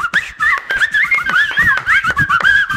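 A person whistles a lively, warbling tune in short wavering phrases, with a few soft clicks or taps in the background.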